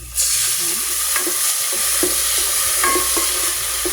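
Ginger, onion and garlic sautéing with fish sauce for chicken tinola, a loud, constant sizzle close by with a few spoon scrapes against the pan.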